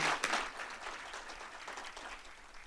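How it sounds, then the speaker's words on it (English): Audience applause at a university faculty and staff assembly welcoming the new diversity officer, a brief burst of clapping that starts strong and settles into a steady, moderately distant patter. "Applause at the beginning, that's great."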